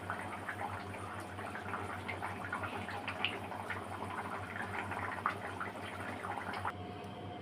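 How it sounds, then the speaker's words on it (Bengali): A pot of red katla fish curry bubbles and simmers steadily, a dense, even boiling hiss over a low steady hum, with no voices. "দেখো বন্ধুরা, এই যে কাতলা মাছের লাল লাল ঝোল ফুটে গেছে"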